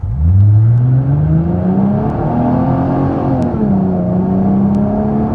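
A car launches hard during an octane performance test, its engine loud and close, rising steadily in pitch through the gears with a continuous droning roar.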